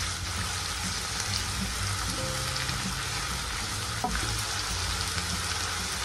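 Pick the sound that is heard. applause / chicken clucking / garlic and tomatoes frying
garlic and tomatoes frying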